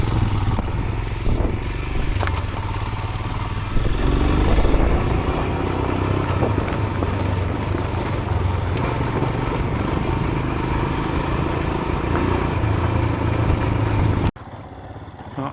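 A Royal Enfield Himalayan 411 climbs a steep off-road hill in second gear. Its single-cylinder engine drones loud and close with a steady throbbing note and clattering over rough ground, then cuts off abruptly near the end.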